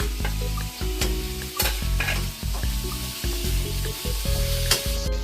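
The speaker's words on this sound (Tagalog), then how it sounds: "Now that the onion and the garlic are already done, add the mushrooms." Mushrooms stirred into a pan of frying onion and garlic, with steady sizzling and repeated scraping stirs in a fairly quick rhythm, close and clear with no talking.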